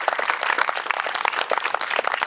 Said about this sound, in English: They deserve a big round of applause for putting all this together.